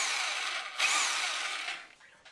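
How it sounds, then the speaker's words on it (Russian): A Dnipro-M PE-2611B rotary hammer runs in chiseling mode, giving a steady, loud mechanical hammering buzz that holds for about two seconds and then trails off near the end. "Это режим отбойного молотка."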